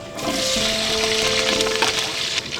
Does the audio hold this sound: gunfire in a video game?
no